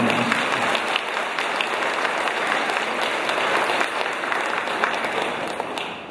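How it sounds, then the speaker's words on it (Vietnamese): A church congregation applauding at a thanksgiving Mass for a newly inaugurated church, sustained dense clapping from many people, loud and even, fading slightly at the end. "tất cả chúng ta xin vỗ tay, vỗ tay chào đón nhau"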